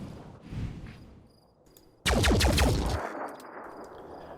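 Turret gunfire in the video game Phoenix Point: a quiet thud, a lull, then a sudden loud burst of rapid, close shots lasting about a second before fading into a softer rumbling tail.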